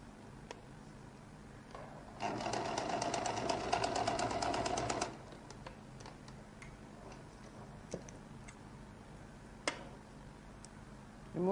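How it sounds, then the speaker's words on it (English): A sewing machine runs along the edge of a lady's jacket collar in one close, steady burst of about three seconds, followed by quiet handling clicks. "Sew by the side."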